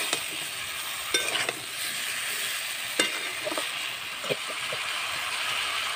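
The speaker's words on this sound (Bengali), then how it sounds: "এইবারে আমি ভেজে রাখা আলু ফুলকপি মটরশুঁটি একসাথে দিয়ে দেব। ভালো করে কষাতে থাকবো।" Fried potatoes, cauliflower and peas stir-fried in spice paste give a steady, close sizzle, with a few sharp scrapes of a spatula against the pan.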